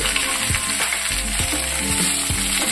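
Vegetables fry in a pan for cucumber chutney, giving a steady close sizzle broken by rhythmic stirring scrapes about every half second, with no talking.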